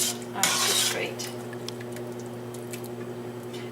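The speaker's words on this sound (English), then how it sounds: "let's go put some sauce on top of this" Thick eggplant and Italian sausage sauce is spooned onto pasta, giving a wet squish and scrape against the dish, then soft clinks and a steady background hum.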